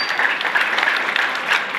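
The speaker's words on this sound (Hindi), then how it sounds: "कम से कम बच्चों के लिए एक बार तालियां बजाते जाइए।" Audience applause for students honored at a Sindhi community ceremony for high academic marks, a steady dense patter of many hands clapping together, fairly close and sustained with no voices over it.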